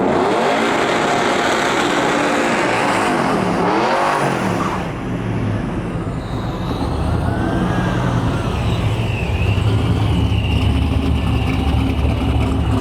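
Loud drag car with a GM Performance LS3 525 crate engine, Texas Speed blower cam and Vortech T-trim supercharger at a drag-and-drive event, roaring and revving hard with rising and falling pitch sweeps, close and dominant throughout.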